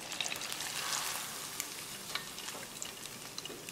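Wild Alaskan sockeye salmon pieces deep frying in hot oil, a steady close sizzle with crackling pops throughout, no voices.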